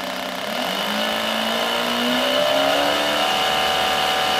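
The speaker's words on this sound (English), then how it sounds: "Test bed's running at about 500 RPM at the moment." An engine on a test bed fitted with a Dual Power electronic ignition runs steadily near 500 RPM, its close, loud, continuous drone rising slightly in pitch as the revs climb.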